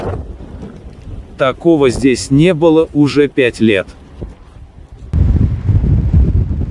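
Hurricane-force blizzard wind, gusting to 35 metres per second, roars through Anadyr in Chukotka as a low, buffeting rumble against the microphone; someone speaks briefly in the middle, then the gusts surge louder and rougher toward the end.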